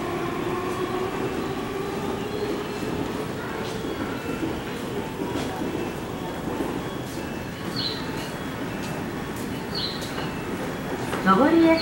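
Tobu 8000 series out-of-service train pulling into a station platform, a low steady rumble and rolling noise throughout, with a station announcement voice over it and a brief high squeal near the end.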